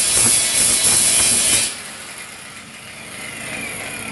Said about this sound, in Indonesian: karena menggerinda hasil pengelasan itu berat